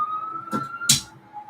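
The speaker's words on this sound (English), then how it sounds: "I hear police sirens almost like every day." A faint, distant police siren holds a steady wail in the background, interrupted by two short bursts of nearby rustling noise.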